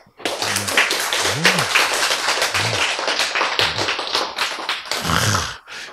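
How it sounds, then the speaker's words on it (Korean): Audience applause in a lecture hall at a health talk on cancer treatment, steady dense clapping from many hands lasting several seconds, with a few voices calling out underneath. "여러분. 박수."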